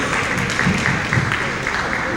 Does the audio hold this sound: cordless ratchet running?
no